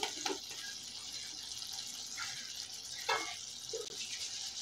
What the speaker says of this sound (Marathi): थोडंसं पाणी घालायचं आहे म्हणजे बटाटा खाली लागणार नाही.